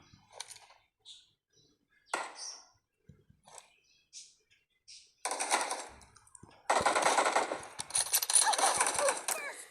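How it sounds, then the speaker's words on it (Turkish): Gunfire in PUBG, starting with scattered single shots and bursts that give way to sustained, dense rapid firing near the end, fairly faint overall. "Bak sıkıyorlar."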